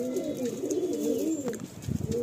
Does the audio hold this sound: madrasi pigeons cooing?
yes